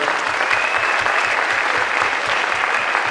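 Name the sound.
concert audience applause for performing groups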